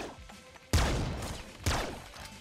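Two booming blasts from the bouncer shotgun in the video game Nuclear Throne, each a sharp loud burst with a scattering tail, spaced about a second apart.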